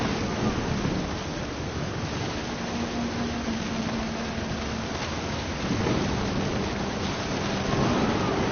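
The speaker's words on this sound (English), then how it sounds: "Thunder sounded much too close and full of angry power." Heavy rain falls continuously with low rolling thunder rumbling underneath, swelling now and then across the stretch.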